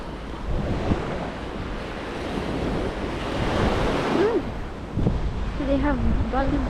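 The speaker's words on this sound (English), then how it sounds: "They have big waves here," Big ocean waves roll onto Cua Dai Beach in Vietnam, a broad continuous surf roar buffeted by wind on the microphone, with brief voices near the end.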